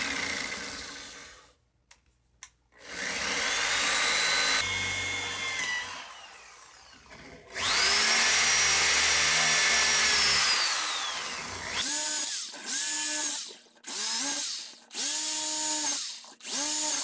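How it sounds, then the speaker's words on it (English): A power drill with a quarter-inch bit whines through repeated bursts, rising and falling in pitch as it bites in, with short pauses between runs. "Then we'll drill it out with a 1/4 inch bit."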